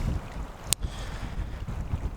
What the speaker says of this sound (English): it's been really freaking cold and windy here